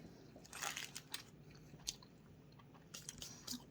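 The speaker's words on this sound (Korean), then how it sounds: "참치 부분을 한번 먹어봅시다" Someone bites into a tuna mayo triangle kimbap and chews it close to the mic: crisp bites and soft, wet chewing come in separate bursts, faint overall, with no talking.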